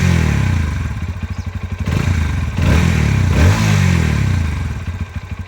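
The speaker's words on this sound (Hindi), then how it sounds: "इग्निशन देते ही इंजन फायर हो जाता है और ऑलमोस्ट उतनी ही जल्दी एक स्टेबल आइडल पे सेटल भी हो जाता है।" A Bajaj Pulsar NS160 single-cylinder motorcycle fires up with a quick crank and blip, then settles into a steady, close, throbbing idle with a rapid even pulse, loud and alone.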